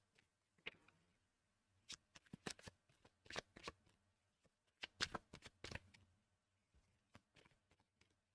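Tarot cards being shuffled, with close, crisp riffling bursts and flicks in irregular clusters and short pauses between them, fairly quiet overall with no talk.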